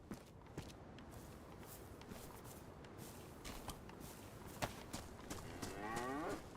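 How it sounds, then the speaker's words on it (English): A cow mooing in the survival video game DayZ, a drawn-out lowing call near the end over a bed of faint rustling ambience and scattered soft footsteps. "Why is there a cow?"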